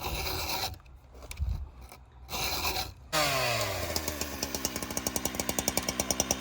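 A chainsaw file rasps against a nail-damaged Husqvarna 365 chainsaw chain: irregular scraping at first, then steady, evenly spaced rhythmic strokes growing sharper, close and fairly loud with no talk.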